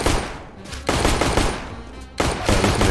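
Automatic gunfire in a first-person shooter video game, dense continuous bursts of rapid shots filling the whole moment, loud and close, broken by a brief lull.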